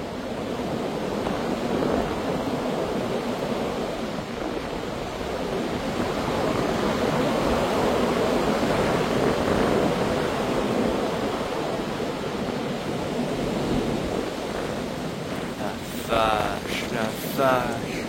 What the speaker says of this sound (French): Voilà ce vent qui fait un bruit absolument épouvantable.